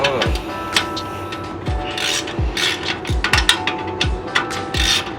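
A ratchet tightens a bolt on a car exhaust resonator in a series of sharp, close clicking pulls with short pauses between them.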